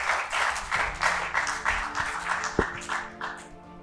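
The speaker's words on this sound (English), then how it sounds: "A round of applause for them again." An audience at a state quiz competition semi-final applauds in a rhythmic, fairly loud burst of clapping, with voices faintly mixed in under the claps.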